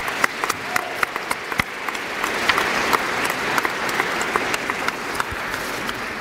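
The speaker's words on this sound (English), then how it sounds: "Give yourselves a round of applause." Steady applause from an audience at a university athletics award ceremony, even and sustained with a few sharper claps standing out, moderately loud and mostly without talk.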